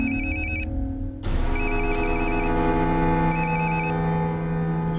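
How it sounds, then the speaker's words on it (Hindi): Mobile phone ringtone for an incoming call, a loud electronic melody in repeating bursts over a steady background hum, with no voices. "कोई दिल जले आशिक का फोन आ रहा है आपको।"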